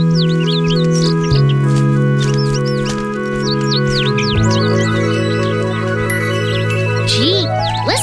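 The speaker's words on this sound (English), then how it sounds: "Gee, listen to all the birds." Many bird chirps and tweets scatter over a steady tonal background, bright and busy throughout.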